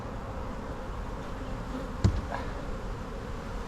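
Honeybees in an opened top hive box during a split produce a steady, dense insect buzz throughout, with one brief sharp knock partway through.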